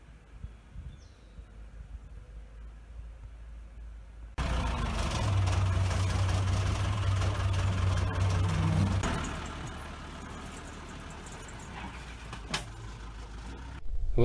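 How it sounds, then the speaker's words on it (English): A backhoe engine runs steadily at close range while a front yard is torn up, rising abruptly to a loud continuous rumble, easing slightly midway, then holding, with a few brief knocks and clanks. Faint voices may be present. "God, I love having access to a backhoe."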